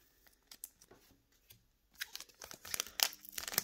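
Plastic foil wrapping around a Shiny Star V display is crinkled and pulled off in close, irregular rustling bursts that grow busier and louder toward the end.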